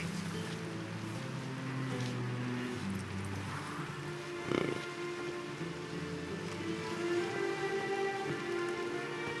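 Steady rain falling in the video game The Witcher 3, a continuous patter on surfaces with a faint tonal background, moderate and unbroken throughout with no voices.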